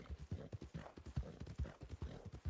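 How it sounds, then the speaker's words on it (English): Horse hooves clip-clopping in a western roleplay video game, a quick, even run of close hoof beats with no talk over them. "Get out of here, horse!"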